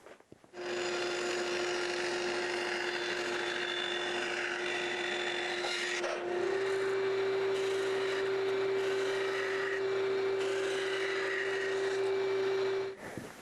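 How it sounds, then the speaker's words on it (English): Power sander grinding the end of a wooden side-bender mold template down to a radius, a steady loud whir that starts after a brief pause and runs continuously with a slight shift in pitch midway, no talking. "and then I'll shape it on a sander"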